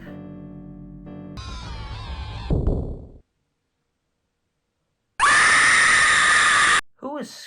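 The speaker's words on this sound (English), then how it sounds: "Who is screaming?" Scream effect in a video game creepypasta narration: a harsh, distorted shriek bursts in after a stretch of silence, loud and sustained for about two seconds, set among other eerie processed sounds and cut off abruptly.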